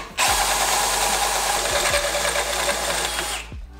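A cheap $50 tube notcher cuts through metal tubing for a pit trike build, giving a loud, steady grinding whine that runs about three seconds before stopping abruptly.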